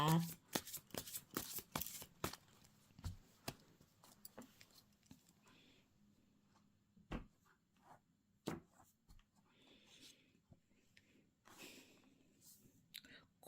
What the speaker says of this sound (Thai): ขอเป็นตัวแทนตับไพ่ให้คนเกิดวันจันทร์นะคะ